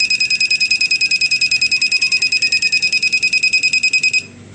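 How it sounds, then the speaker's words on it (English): An automatic school bell alarm rings in a steady, fast pulsing electronic beep pattern for about four seconds, loud and close, then stops abruptly. "So it's it sounded the alarm."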